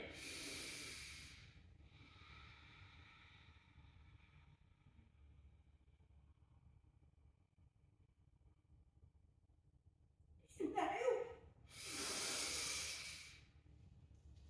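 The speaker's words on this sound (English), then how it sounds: "I was desperate to breathe in" A deep, desperate breath drawn in after fully exhaling, following a long stretch of near silence with a faint earlier exhale; the inhale comes as a loud, close gasping rush lasting over a second.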